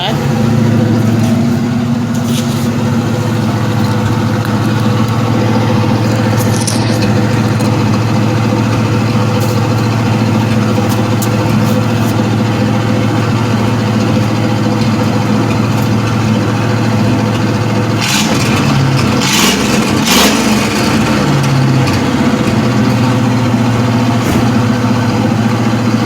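Steady idle from a Predator engine on a Marlin 327 Flash-O-Matic, caught at the exhaust outlet at the back: a continuous low throb running smoothly throughout, with a brief louder burst of noise late on.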